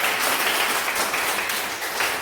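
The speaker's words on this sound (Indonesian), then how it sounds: "Kasih aplaus untuk saya" Students in a classroom applaud together, a dense, steady wash of many hands clapping at close range that continues evenly throughout.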